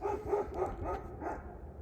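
A pit bull-type dog barks in a short series of yelping barks while chasing another dog, moderately close, over a low rumbling outdoor background.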